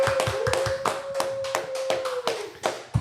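A small group claps for a guest at a podcast recording: a handful of distinct, close hand claps in an uneven rhythm, with a steady tone running underneath.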